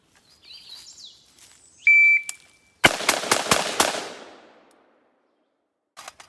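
Four rifle shots fired in fairly quick succession at a shooting range from 10 yards, sharp loud cracks with a ringing decay; birds chirp softly before the shots and a brief electronic beep sounds just ahead of them.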